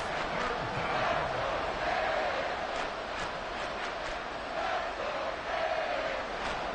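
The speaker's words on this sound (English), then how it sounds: "Well, this crowd into it now." A football stadium crowd roars steadily during a late third-down play in a Chiefs game, a dense, far-off sustained cheer with swelling shouts and no clear speech.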